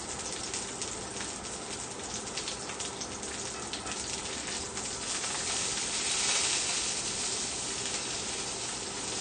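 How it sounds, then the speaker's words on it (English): Steak searing in a hot pan for a gluten-free Outback copycat dinner, a steady loud sizzle and hiss that swells slightly midway, with no talking. "I like to get a good sear on it."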